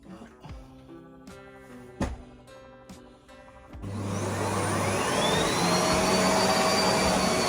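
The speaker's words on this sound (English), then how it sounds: "I'm just about to vacuum my room" A vacuum cleaner starts up partway through and runs loudly and steadily while vacuuming a bedroom, its broad whining roar replacing the quieter household sounds that came before.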